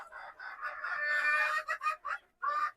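Farm chickens, including a young white hen, cluck and call close by in a rural village yard, a run of drawn-out squawking followed by several short clucks with brief pauses, no talking.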